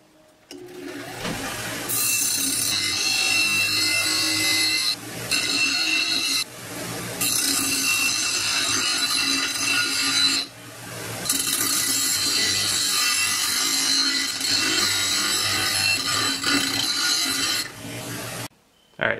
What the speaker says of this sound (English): we're going to grind them back perpendicular to this inside edge